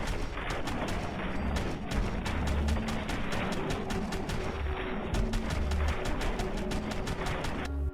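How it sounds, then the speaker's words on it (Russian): Semi-automatic fire from a modded rifle in Fallout 4 cracks out as a dense, steady string of loud shots in quick regular succession, each sharp report ringing into the next with no pause. "Сначала в полуавтоматическом режиме ведения огня."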